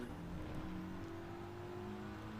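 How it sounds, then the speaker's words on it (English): A Mitsubishi Group 4 race car engine in Gran Turismo 7 drones steadily at a sustained pitch, a fairly quiet continuous motor hum with no talking. "Is this the Mitsubishi Group 4 car?"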